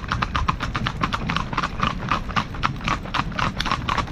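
A horse canters nearby, its hooves striking in a steady, rolling three-beat rhythm that stays close and fairly loud throughout.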